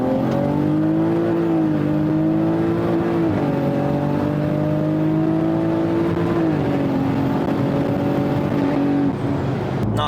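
A turbocharged car, running about 13.5 psi of wastegate boost, accelerates hard in third gear, its engine note climbing steadily and loudly for about ten seconds with brief dips as the load shifts.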